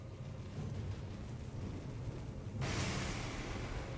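An exploding pot enemy in the video game Elden Ring bursts partway through, a sudden broadband blast that leaves a sustained rumble over the ongoing game ambience, with no talking.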